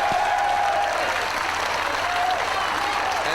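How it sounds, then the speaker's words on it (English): Wrestling fans at a professional wrestling event applaud in a large crowd, giving steady, dense clapping that fills the space with no break, under faint commentary. "The fans, you can hear the applause."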